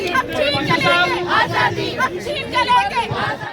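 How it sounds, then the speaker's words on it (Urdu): Protest crowd outside the UNESCO office in Paris chanting slogans for Kashmir's freedom and against Modi, a dense, loud mass of overlapping voices that continues steadily throughout. "اس موقع پر کشمیر کی آزادی کے حق میں اور مودی کے مظالم کے خلاف خوب نعرے بازی کی گئی"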